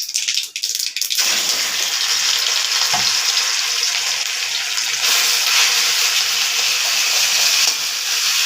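Elephant apple goes into hot oil with mustard seeds in a pan, setting off a loud, close, continuous frying sizzle with a few stirring knocks, steady throughout.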